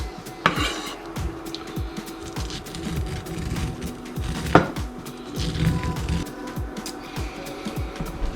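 Knife strokes trimming hickory-smoked ribs on a cutting board, a steady run of close, soft cutting and scraping taps with a few sharper knocks, including one louder clack partway through; no talking.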